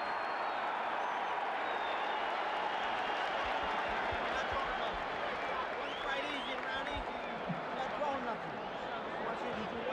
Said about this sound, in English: The crowd is really juiced up.